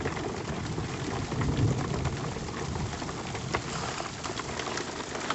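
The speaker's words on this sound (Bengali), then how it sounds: "এটা ঠিক স্নোফল না এটা হচ্ছে বরফের বৃষ্টি দেখলেই বোঝা যাবে" Sleet, icy pellets of rain, falls steadily on a Brahmatal trek in strong wind, a dense close patter and hiss with a slight swell partway through and no voices.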